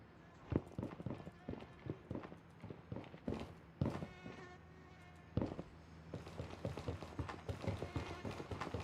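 Rapid footsteps in the military shooter game Gray Zone Warfare, a busy run of close thuds and scuffs throughout, mixed with game ambience and occasional louder impacts.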